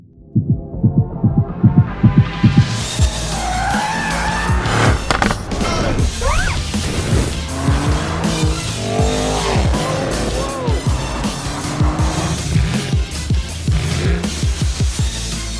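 Mercedes-AMG GLC63S Coupe facelift, non-EU version, in Abu Dhabi: a loud, close engine and exhaust that opens with a string of sharp throbbing blips, then holds a sustained aggressive roar with rising and falling revs and no talk.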